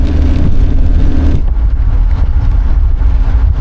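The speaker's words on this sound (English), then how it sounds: "Super windy all of a sudden." Strong wind roars and buffets the microphone throughout, a loud, close, continuous rumble with gusting surges and no voices.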